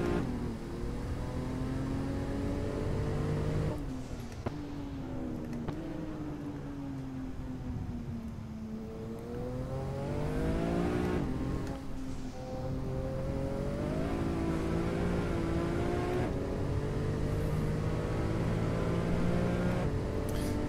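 Porsche GT2 RS MR engine on a hot lap at a Portuguese track, loud and continuous from the cockpit, rising and falling in pitch through repeated upshifts and downshifts, with no talk.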